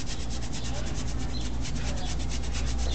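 A 1.5-inch paintbrush scrubs paint onto canvas with rapid, steady, rhythmic bristle rubbing, close and continuous throughout, with no talk over it.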